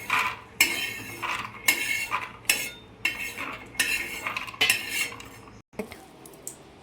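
Roasted peanuts being scooped out of a pan with the heat off, a series of rhythmic metallic scrapes and rattles from a spoon against the pan, close and loud, roughly eight strokes with no talking.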